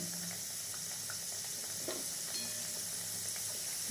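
Radhaballavi puris fry in hot oil with a constant close, moderate bubbling sizzle and small crackles, no voices over it.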